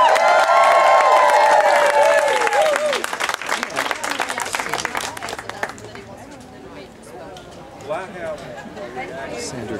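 Crowd at a Democratic rally on Oxford Square, loud applause and cheering with crowd chatter at the start, fading to scattered clapping and murmuring voices.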